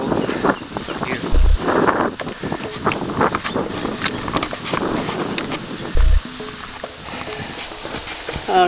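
Wind gusts buffet the microphone on a foggy, cold trail, producing loud rumbling bursts and steady rushing noise throughout, with a few brief low thumps.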